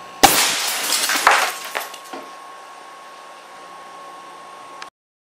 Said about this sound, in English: Target is an empty thick glass beer mug, 80 grain marble, 300 psi,